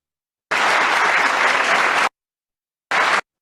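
A theatre audience breaks into loud, dense applause for about a second and a half, falls silent, then gives a short second burst of clapping.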